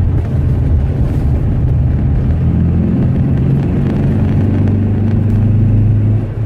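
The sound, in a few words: steering wheel vibration in running car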